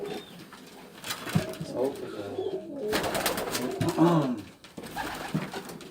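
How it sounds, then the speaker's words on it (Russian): Domestic pigeons kept by a pigeon fancier in Dushanbe, Tajikistan coo close by in repeated soft, throaty phrases over a low background murmur. "Голуби,"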